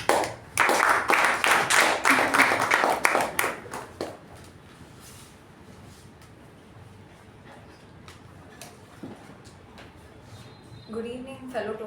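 Audience at a Toastmasters club meeting clapping, a burst of dense applause for about four seconds that then stops, followed by quiet room noise and a voice starting to speak near the end.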